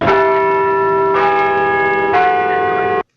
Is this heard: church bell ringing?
yes